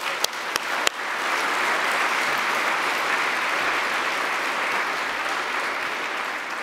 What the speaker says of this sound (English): I'd like to give Mozilla a round of applause for that